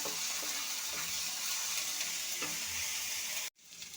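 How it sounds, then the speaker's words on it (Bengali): Ginger and garlic paste frying in oil in a pan: a quiet, even sizzle with faint stirring taps, steady throughout and stopping suddenly just before the end, no voices. "আদা বাটা ভালো করে ভাজা ভাজা করে নেবো রসুনের কাঁচা গন্ধটা যেন চলে যায়"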